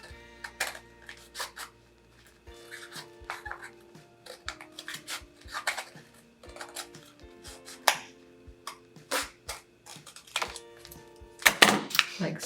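Cardboard roll being cut to a 1.5 inch length while making a DIY kaleidoscope, heard as a run of sharp, close snips and taps with irregular rhythm, louder toward the end.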